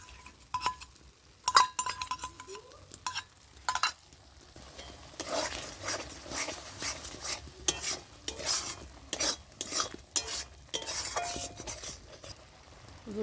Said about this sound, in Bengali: ফেটিয়ে রাখা দইটা দিয়ে দিচ্ছি এবার আমি।